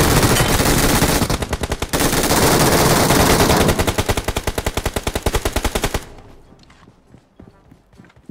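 Automatic gunfire in PUBG Mobile, long rapid bursts of shots ripping close and loud for several seconds, then cutting off to quieter scattered sounds.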